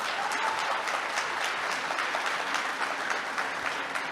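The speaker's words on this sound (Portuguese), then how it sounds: "pedir a todos uma salva de palmas para o pessoal que deu um show aqui" Audience applause at a marketing and sales event, a dense steady round of clapping that fills the room with no talk over it.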